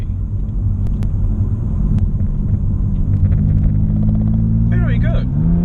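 A Manhart MH3 550 tuned BMW M3 accelerating hard in third gear in Sport Plus, its engine a deep, steady rumble heard from inside the cabin that rises in pitch toward the end, with someone talking over it.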